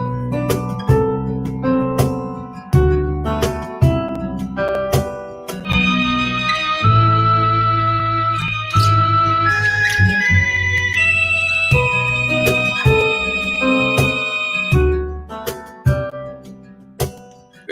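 Band arrangement with bass and small guitar licks filling gaps between phrases, punchy rhythmic chords and plucked notes layered with sustained keys, loud and continuous, no talking.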